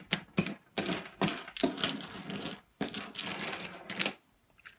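Small metal screws salvaged from scrapped electrical plugs clatter into a pile in several short bursts of jingling clinks, close and fairly loud, with brief pauses between the drops.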